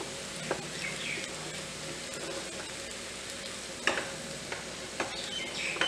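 Vegetable macaroni with soy sauce is stirred in a pan, giving soft scraping and faint sizzling with occasional sharp spoon clicks against the pan, fairly quiet and with no talking.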